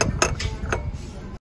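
Dishes clink and clatter as they are handled on thrift store shelves, several bright chinks of ceramic and cutlery close by over a low murmur of background noise.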